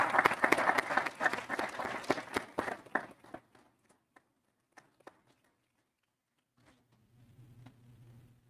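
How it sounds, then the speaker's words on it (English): Dense audience applause for custodial staff at a school board of education meeting, loud for about three seconds, then thinning to scattered claps and fading into a quiet room hum. "Let's give them a big round of applause."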